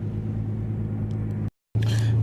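A car's engine rumbles steadily at close range as it is driven and parked in a garage, with a brief dropout before the low drone resumes.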